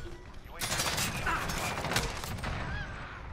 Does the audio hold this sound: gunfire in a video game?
yes